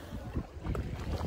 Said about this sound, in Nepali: बोट चलाउँदै